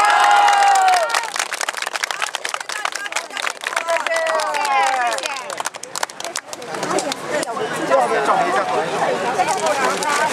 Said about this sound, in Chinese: 我们坚持到底，给自己掌声好不好？